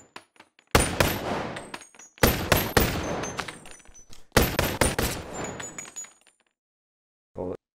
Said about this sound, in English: Put a bullet in. Let's shoot it.